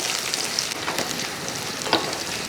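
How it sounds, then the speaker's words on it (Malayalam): Two cut-up dried red chillies frying in a pan while being stirred for an egg thoran, a soft continuous sizzle with scraping strokes of the spoon and a few small pops. "രണ്ട് വറ്റൽമുളക് ഇതേപോലെ ചെറുതായിട്ട് മുറിച്ച് വെച്ചിരിക്കുന്നത് അതുകൂടെ അങ്ങോട്ട് ഇട്ട് കൊടുക്കും അത് വിട്ട് ഇളക്കി കൊടുക്കുക"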